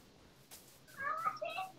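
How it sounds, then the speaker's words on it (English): Cat meowing in the video game Minecraft near a village: a couple of short, faint, high meows at the end of a quiet stretch, with a brief breath or voice sound before them. "Oh, kitty!"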